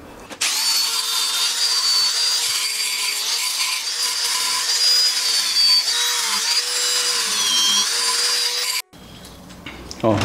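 A power tool grinds steadily through stainless steel plate in a loud, high-pitched whine for several seconds, slightly wavering in pitch, then cuts off abruptly.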